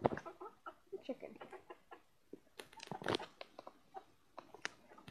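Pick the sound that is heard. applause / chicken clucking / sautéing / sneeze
chicken clucking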